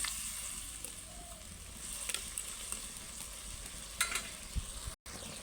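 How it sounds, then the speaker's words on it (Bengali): Fish pieces for doi katla simmer in a pan of curry with a steady, soft sizzle, punctuated by a few faint scrapes and clicks of stirring toward the end. "এবার মাছগুলো দিয়ে দেবো দিয়ে ভালো করে নাড়াচাড়া করে"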